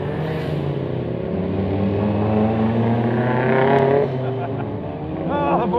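A car engine drones and rises in pitch as it revs, with a voice talking over the steady mechanical hum.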